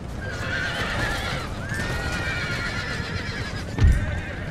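Horses neigh and whinny in a Napoleonic-era battle in the strategy game Empire Total War, several rising and falling whinnies over a dense rumble of hooves and battle noise, with a sharp thud near the end.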